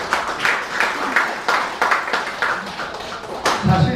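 Applause from the audience at a Korean community unification lecture and harmony event in Atlanta: several seconds of scattered clapping, moderately loud and fairly near, with a brief low voice near the end.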